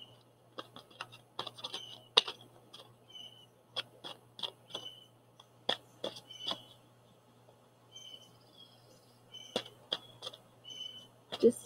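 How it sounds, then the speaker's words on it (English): Birds chirp and call outdoors in a quiet natural setting: short, sparse high chirps arrive in irregular clusters against near silence, fairly faint and distant. "Just listen to the birds"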